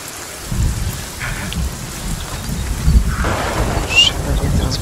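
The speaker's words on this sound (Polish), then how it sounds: "Częściej deszcz pada" Rain and thunder in the video game Sons of the Forest, with a steady close patter of rain on surfaces and low rolling thunder rumbles swelling through the storm.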